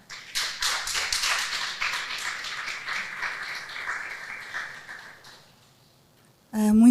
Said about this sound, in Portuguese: Quero pedir uma forte salva de palmas para ela